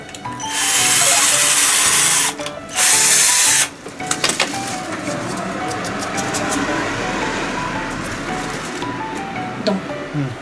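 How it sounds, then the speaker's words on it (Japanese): A power drill bores screw pilot holes into a thin wooden board during a kitchen DIY job. Two loud, close whirring bursts are followed by handling knocks while people talk. "ビス用の穴を開けちゃう。"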